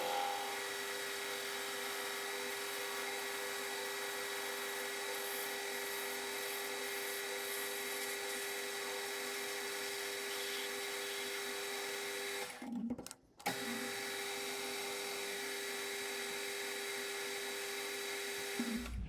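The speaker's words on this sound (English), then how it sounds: "I am going to turn this around, hold it by this diameter and part this excess off." A metal lathe parts off excess from a workpiece, a steady high-pitched whine with a whirring hum running throughout, briefly cut off by a couple of short breaks before resuming, no speech.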